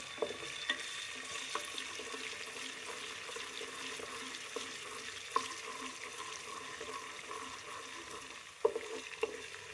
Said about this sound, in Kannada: ಮೆಣಸಿನ್ಕಾಯಿ ಹಾಕ್ತಾಯಿದ್ದೀನಿ ನೀವು ಖಾರ ಜಾಸ್ತಿ ಬೇಕಂದರೆ ಕಾ ಮೆಣಸಿನ್ಕಾಯಿ ಹಾಕ್ಕೋಬೋದು